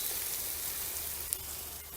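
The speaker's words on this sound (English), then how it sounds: "Listen to that sizzle." Steady, hissing sizzle of onions and garlic frying in a hot pan, close and continuous, with a faint clink partway through.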